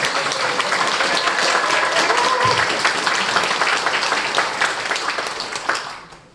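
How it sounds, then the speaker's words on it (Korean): A church congregation claps together in steady, full applause that holds strong and then thins out and fades near the end. "박수."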